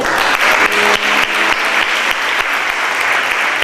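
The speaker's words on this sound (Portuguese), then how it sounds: "Aplauda ao Senhor." Church congregation at a Portuguese-language service applauds loudly and continuously, a dense roar of many clapping hands close by, with a faint rhythmic low thump running underneath.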